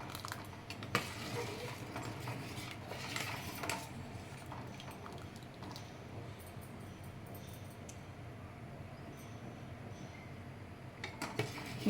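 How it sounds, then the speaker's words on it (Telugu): Milk with custard powder boiling in a pot on the stove, a steady low bubbling simmer with occasional faint clinks of a spoon or pot, close and continuous with no talking. "కస్టర్డ్ పౌడర్ వేసాను కదా, ఇప్పుడు పాలు ఇవి మరుగుతున్నాయి"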